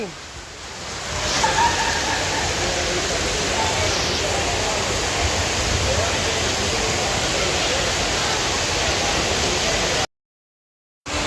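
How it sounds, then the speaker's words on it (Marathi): Heavy rain pours steadily in Singapore, a dense, loud, continuous hiss with no clear talk, running for about ten seconds before cutting to a short silence. "आता अर्धा तास झाला पाऊस असाच पडतो आहे"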